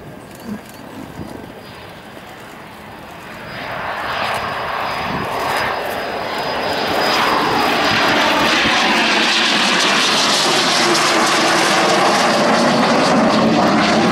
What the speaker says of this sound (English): The L39 became the world's first turbofan-powered jet trainer.